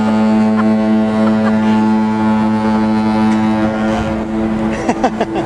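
The deep horn of the cruise ship MSC Preziosa blows steadily and loudly for several seconds while leaving the port of Santos, with faint background noise and a few brief clicks near the end.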